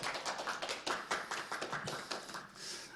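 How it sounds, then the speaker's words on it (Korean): Applause from a lecture audience in Incheon, a short burst of close, fairly faint clapping that patters unevenly for a few seconds. "큰 박수 부탁드리겠습니다"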